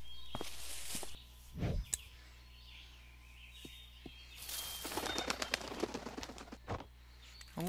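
Birds in the video game A Bird Story coo and flutter amid game sound effects, with scattered wing-like bursts and soft calls in a quiet scene.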